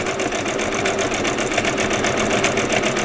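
A sewing machine runs continuously at a steady speed while stitching fabric for vet scrubs, giving a loud, even, rapid mechanical whir and needle chatter for about three seconds with no voices.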